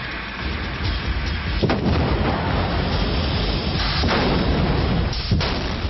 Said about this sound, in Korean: 무려 1000톤 남석을 들었다 놓는 폭발.